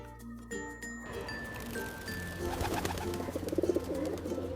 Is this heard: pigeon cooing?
yes